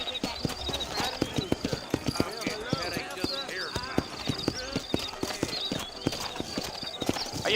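Horse hooves clip-clopping steadily at a brisk gait in the Western video game Red Dead Redemption, loud and rhythmic throughout, with game characters talking over the hoofbeats.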